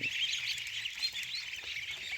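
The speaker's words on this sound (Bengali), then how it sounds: "এগুলো হচ্ছে জেন্ডিং চেন্ডিং জাতের হাঁসের বাচ্চা" Jending and Khaki Campbell ducklings peep in a constant, dense chorus of high chirps, close and continuous with no voices.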